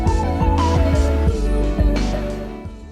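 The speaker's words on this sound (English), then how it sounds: "And then I wanna pour some in here, just in case that thing spills." Disinfectant liquid is poured into a small travel-size bottle, giving close, gurgling splashes with a ringing tone that shifts as the bottle fills, fading toward the end of a three-second pour.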